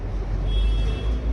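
Heavy street traffic outside on a busy road, a steady low rumble of passing vehicles with a faint tonal whine, continuous and fairly loud, without any speech.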